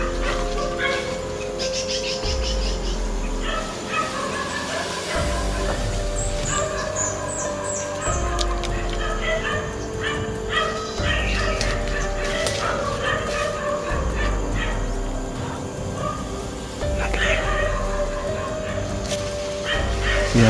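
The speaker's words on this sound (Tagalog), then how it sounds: "Kaya pala tumitahol ang mga aso" Several dogs bark repeatedly outdoors, with yips and whimpers mixed in and fowl calling nearby, the barking steady and fairly close throughout.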